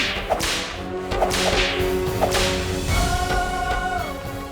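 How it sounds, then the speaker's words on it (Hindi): A whip cracks in a Hindi TV historical drama about the Rani of Jhansi, with several sharp, loud lashes and swishes spread across the clip over a dramatic musical score. "चाबुक से धुन के रख दी थी"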